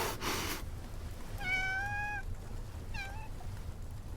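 A cat in the video game Love and Deepspace gives two separate meows, a longer one early and a shorter one a little later, clear against a quiet background.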